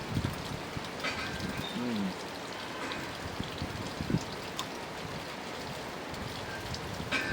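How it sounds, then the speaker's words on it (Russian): Steady rain pours down outdoors during a thunderstorm, a dense continuous hiss that fills the whole stretch, with a faint coo of a dove and a few scattered knocks breaking through. "И полил дождь."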